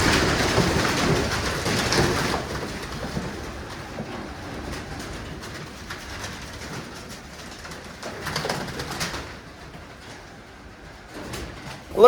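Wild-caught pigeons in a pigeon loft or shack murmur and coo at low level, with scattered rustles and wing flutters throughout and a sharper burst at the end.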